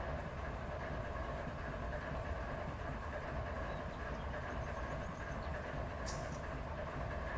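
A train rolls along the railroad on the Needles Subdivision, a steady, continuous rumble and rail clatter at moderate distance, unbroken throughout and without voices.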